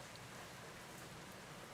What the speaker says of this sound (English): More rain. I unfortunately cannot turn the volume up on the rain.